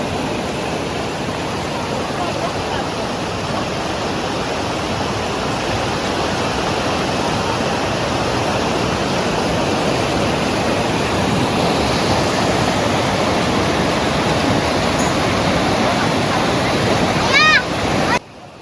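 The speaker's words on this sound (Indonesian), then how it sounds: "kalau aliran air sungainya seperti ini masih cukup aman untuk river tubingnya" A river at a riverside campsite in Rancabali used for tubing and rafting, flowing in a steady, loud, broadband rush close by, unbroken throughout, with a brief faint higher sound right at the end.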